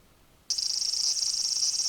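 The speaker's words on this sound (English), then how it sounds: "Oh no, not more cicadas." After a brief hush, cicadas burst into a loud, continuous high-pitched drone in a visual novel game scene, steady and sustained to the end with no speech.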